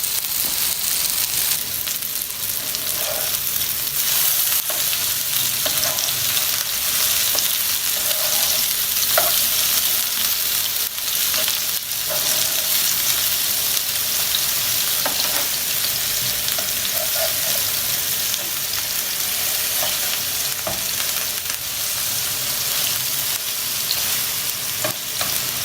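Dough fries in a hot pan with a constant, even sizzle and crackle, close and continuous, with faint stirring and pan noises and no talk.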